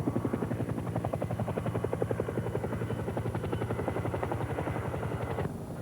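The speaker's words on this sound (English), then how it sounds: "you will observe this helicopter approaching the demonstration area" An Army UH-1H helicopter approaches with a steady, rhythmic rotor thump over a whining turbine, moderately distant and fairly faint, holding even throughout before the sound shifts slightly near the end.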